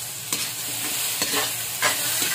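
Taro chunks sauté in a hot pan for salmon sinigang, a steady oily sizzle broken by a few sharp scrapes and clinks of the spatula stirring, close and without speech.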